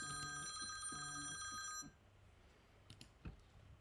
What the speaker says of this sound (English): Sorry for that, my phone rings.